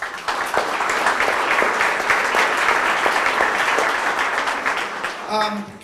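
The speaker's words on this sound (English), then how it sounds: "So let's give them a round of applause." An audience at a college library grand opening gives donors a sustained round of applause, full and even for several seconds before tapering off at the end.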